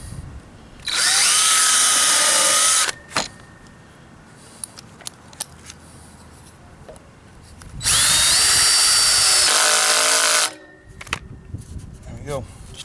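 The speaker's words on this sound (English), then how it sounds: "Re-drill my other one." A Dewalt DCD771 cordless drill driver re-drills a hole in two sustained high whirring bursts of about two seconds each, separated by a quiet stretch with small clicks and handling noises.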